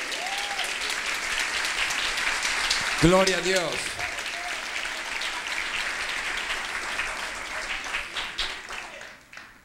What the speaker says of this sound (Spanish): Dale un fuerte aplauso al Señor en esta hora.